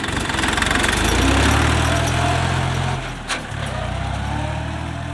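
A small Chinese tractor's engine runs loud and near with a steady throbbing low rumble, dipping briefly partway through before continuing, heard outdoors in a village.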